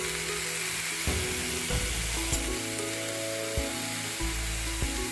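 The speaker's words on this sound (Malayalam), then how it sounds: "നമ്മുടെ ഓണിയൻ ഇവിടെ ഉപ്പിട്ട് നന്നായിട്ട് വഴറ്റിക്കൊണ്ടിരിക്കുകയാണ്" Chopped onions sauté with salt in a hot pan for caramelized prawns masala, giving a steady close sizzle broken by repeated scraping stirs of a spoon.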